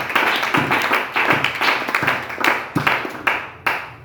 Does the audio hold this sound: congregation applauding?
yes